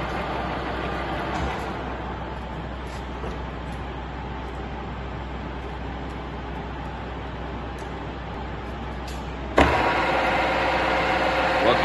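A Stanko 6A82III Soviet vertical and horizontal milling machine runs its spindle at 1000 RPM, giving a steady, continuous mechanical hum and whir that holds evenly throughout, stepping up slightly louder near the end.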